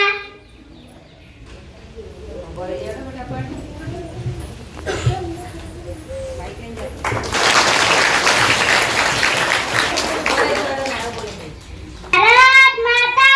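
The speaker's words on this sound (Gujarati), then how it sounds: "જોરદાર તાળીઓથી" Audience applause for a class-two primary school children's play at a girls' school, a loud sustained burst of clapping filling several seconds, with children's voices before it and a shout afterward.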